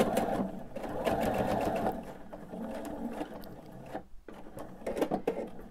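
A sewing machine stitches the binding of a quilt in a steady mechanical whir that runs through the whole stretch, with a brief pause near the end before it picks up again for a short backstitch.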